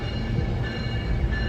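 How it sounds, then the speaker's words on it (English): A SMART diesel multiple unit train passing a station sends out a steady, close rumble of engine and rolling wheels, loud and unbroken over the short span. "we got an incoming smart train coming up here"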